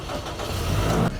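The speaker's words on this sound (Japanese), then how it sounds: "でエンジンつけてアイドリング状態にすると" The engine of a Nuts RV Jeepney camper van runs close by with a steady, low, even rumble, holding at idle for a brief moment.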